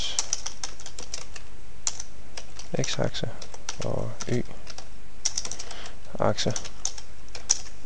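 Axis labels for a Mathematica plot are typed on a computer keyboard: quick bursts of close key clicks with short pauses, under someone speaking Danish.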